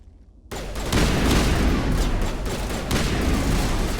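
Heavy gunfire erupts in a Mass Effect firefight on Feros after a brief quiet moment, sustained loud bursts of weapon fire and booms rolling continuously to the end.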